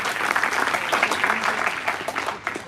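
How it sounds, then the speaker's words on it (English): Conference audience applauding steadily, a dense wash of clapping hands that holds at an even level for a few seconds. "So give a big round of applause here."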